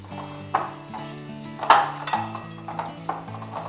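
Smoked buffalo-style chicken wings tumbled in sauce inside a bowl, with soft wet stirring and a few sharp clinks against the bowl, quiet and close.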